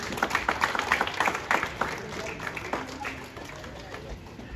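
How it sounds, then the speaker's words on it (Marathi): An audience breaks into applause at a Republic Day speech competition prize presentation, a burst of dense clapping that gradually thins out, with voices mixed in. "सर्वांनी टाळ्या वाजवायचे आहेत"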